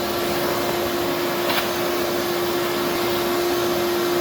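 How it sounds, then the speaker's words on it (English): A shop vac runs continuously at close range while vacuuming debris, giving a loud, steady whining roar with a constant high tone and no break. "As you can see right here guys, sharp vac and just vacuum everything."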